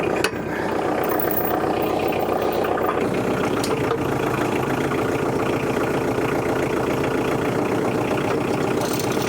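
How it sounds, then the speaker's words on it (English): A tractor engine idles loud and close with a steady, rattling mechanical chug and clanking metal underneath, continuous for the whole stretch with no speech. "clean this up a little bit with the tractor so that I can smoothly drive in and out of here"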